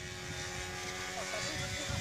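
An Alpha Trainer model airplane with a 46 engine buzzes during landing and takeoff over a grass strip, a steady distant whine with a faint shifting pitch, while someone talks nearby.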